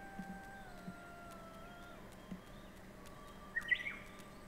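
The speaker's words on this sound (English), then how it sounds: "I like the bird noises." Soft bird chirps and short tweets in the Wander video game on Dryad Isle, a few faint calls scattered over quiet ambient background, with one brighter trill near the end.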